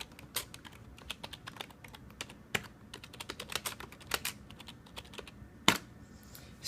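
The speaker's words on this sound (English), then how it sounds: "if you don't like clicky keyboards, then it's the keyboard for you" Soft, muted keystrokes on a quiet, non-clicky computer keyboard, tapped in an irregular run of light, close taps with a few sharper hits, and no one talking.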